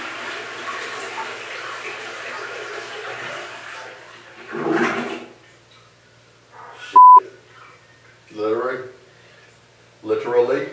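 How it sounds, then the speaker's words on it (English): A toilet flushes with a rushing water wash that fades out after a few seconds, followed by a sharp electronic beep and bits of nearby talking. "Did you flush the toilet?"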